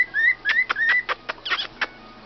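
Pet bird Meeko chirping and whistling close by: a run of bright rising whistles and sharp chirps, about a dozen short calls in an uneven rhythm, with no voices over them.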